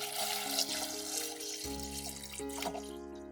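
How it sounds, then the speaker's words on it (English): Water streams from a tap into a pot of eggs, a steady splashing rush that stays up close, with faint tones humming behind it. "I fill the pot with water to cover the eggs."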